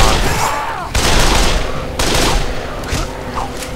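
Rapid gunfire from a video game zombie shooter, loud sustained bursts of automatic shots in three separate volleys with brief breaks between them.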